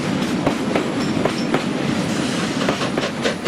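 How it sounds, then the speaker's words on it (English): Chinese QJ steam locomotive pulling away from Lingdong with a mixed freight of oil and ore wagons, rhythmic wheel clatter and rolling rail noise, steady and fairly close with periodic clicks from the wagons. "A single QJ pulls away from Lingdong with a mixed freight of oil and ore"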